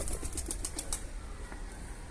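A quick burst of pigeon wing flaps as the birds land on a roof, several rapid soft claps close together, then fading away against a quiet outdoor background.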